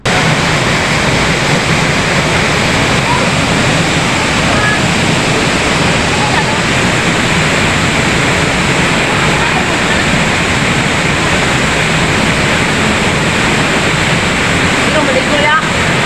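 Steady roar of the waterfall at Marangig Falls in Maragusan, Davao de Oro, a dense broadband rush filling the whole clip without pause, loud and close.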